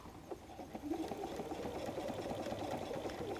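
A sewing machine stitches steadily through the layers of a messenger bag, a close, continuous mechanical whir with rapid needle clatter and no speech.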